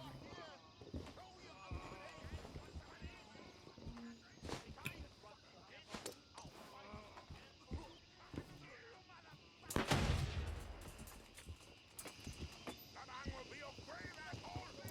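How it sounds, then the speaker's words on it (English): In the military shooter Gray Zone Warfare, a thrown grenade goes off partway through as one loud, deep explosive burst with a rumbling tail, amid scattered gunshot-like cracks, footsteps and a voice talking. "what I'm gonna do is I'm gonna lob a nade"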